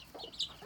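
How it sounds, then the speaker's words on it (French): Hens sitting side by side with ten chicks around them give a short, soft burst of clucking and chirping, close and fairly faint, with no talk. "toujours les deux poules côte à côte, les 10 poussins autour des deux poules réunies"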